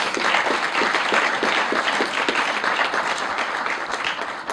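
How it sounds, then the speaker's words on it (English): Crowd applause at an awards ceremony, a dense steady clatter of many hands clapping together, loud and sustained, tapering slightly toward the end. "Give him a round of applause, please."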